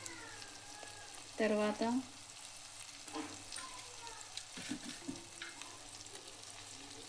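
Onions fry in a pan for an Indian egg fry, a low continuous sizzle with occasional stirring scrapes, while someone briefly speaks over the cooking.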